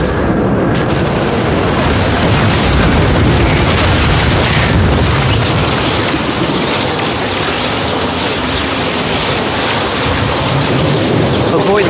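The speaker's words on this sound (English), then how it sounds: "Thrasher is bombarding the temple." Thrasher bombarding a temple in a StarCraft 2 co-op mission, heard as a continuous dense roar of rumbling explosions and booms at high loudness throughout.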